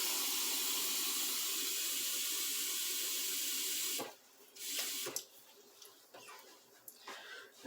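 Kitchen tap water runs loud and steady into a cup for about four seconds, then shuts off, leaving quieter clinks and handling noises near the sink.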